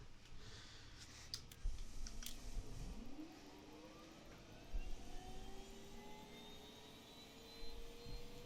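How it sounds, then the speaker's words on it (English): A Cessna Citation 500 jet engine spools up during start-up in the X-Plane flight simulator, a faint rising whine climbing steadily under a low rumble, with a few soft clicks early on. "I just kind of like the sound of the 500 starting in X-Plane."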